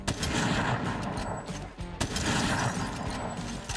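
Sniper rifle shots in a video game, two loud sharp reports roughly two seconds apart over a dense, continuous backdrop of game noise and gunfire.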